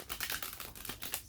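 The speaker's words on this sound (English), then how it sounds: "Let's give the deck a nice little shuffle" A deck of cards being shuffled up close, a quick run of soft crackling riffles and flutters that lasts just over a second with no talking.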